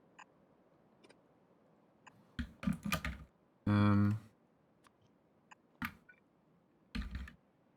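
Scattered keystrokes and clicks on a computer keyboard, in short bursts between quiet gaps, including one louder thud in the middle, close and moderately soft.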